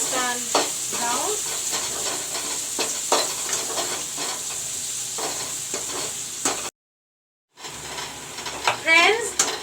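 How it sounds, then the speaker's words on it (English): Onions fry for chicken curry in a pan with bay leaves and garam masala, giving a steady close sizzle broken by scraping stir strokes. The sound briefly cuts out near the end, and a faint voice can be heard. "Now I will let the onions turn brown."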